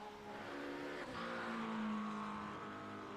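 GT3 race cars run at Circuit of the Americas, a steady, faint engine drone with whining tones rising and shifting as cars pass, heard from a distance without any talk.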